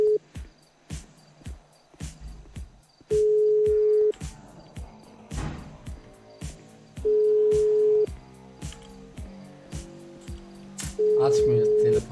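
A phone ringback tone sounds for a call that goes unanswered, repeating steady beeps spaced a few seconds apart, while ticking and brief voices are heard around them.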